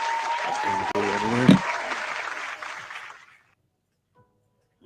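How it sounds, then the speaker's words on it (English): Brief burst of clapping and cheering celebrating a finished RiteWing foam wing build, with a voice speaking over it. It cuts off abruptly after about three seconds, leaving silence. "Throw me an applause."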